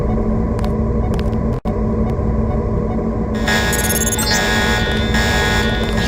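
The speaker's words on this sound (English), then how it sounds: "The alarm just closed the north door." An alarm blares in the Deus Ex Revision video game, a loud sustained electronic tone over a constant hum, with harsher buzzing tones added partway through.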